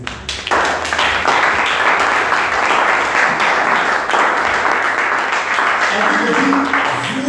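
A church congregation applauding during a French-language sermon, dense sustained clapping and cheering that starts abruptly and carries on loudly throughout.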